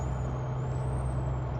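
Air brakes on a truck in American Truck Simulator hiss as it stops: one steady, loud, close release with a low engine rumble beneath.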